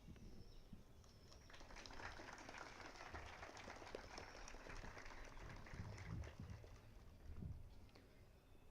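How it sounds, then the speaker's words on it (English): Audience applauding for award winners at a university convocation ceremony, a faint, steady wash of clapping that continues for several seconds and thins out toward the end. "A big round of applause for all the award winners."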